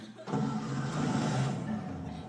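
A car engine turns over and catches at a roadside stop, then settles into a steady, fairly loud idle close by with no talking over it.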